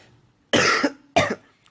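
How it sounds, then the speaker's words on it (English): Two sharp, loud coughs close to the microphone, about half a second apart, in otherwise near silence. "Sorry, I'm coughing"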